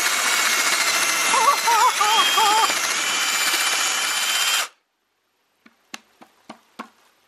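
A power drill whines steadily for several seconds boring into a pumpkin, with a few excited voices over it, then stops; a handful of sharp knocks follow in the quiet.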